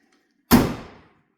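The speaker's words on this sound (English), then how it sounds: "as you can see, you can open and close your doors." A single sharp slam or thud as the enclosure door of a 2025 Yamaha Rmax 4 UTV swings shut, close and loud, then decaying quickly into silence.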